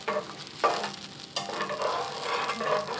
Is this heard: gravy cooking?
yes